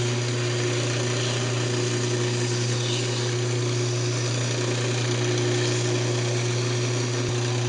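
A wood lathe spins a cocobolo duck call while it is sanded with 600-grit paper, producing a loud, constant motor hum with a faint rasp of abrasive throughout.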